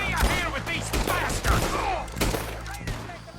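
A chaotic firefight in Red Dead Redemption 2, with scattered gunshots cracking at irregular intervals amid background shouting and game noise, some shots close and punchy, others further off.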